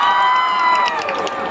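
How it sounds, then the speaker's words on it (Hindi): A crowd at a Karachi meet-and-greet with the cast of the drama Meray Paas Tum Ho, Humayun Saeed and Ayzah Khan, cheers and shouts loudly in a short, dense burst of voices and whoops. "कराची वाले अपने लिए एक बार जोरदार तालियां बजा दे भाई"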